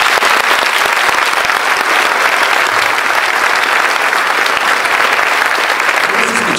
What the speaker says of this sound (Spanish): Yo les pido un aplauso, por favor,